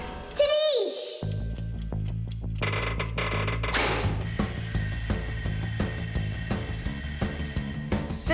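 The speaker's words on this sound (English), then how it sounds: "I think I can hear my alarm ringing" Alarm clock bell ringing in a cartoon, a mechanical bell rattling steadily and loudly for several seconds after a short whistle-like sound, with a voice speaking at the start.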